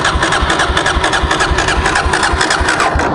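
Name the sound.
Suzuki DRZ400S motorcycle engine starting, carbureted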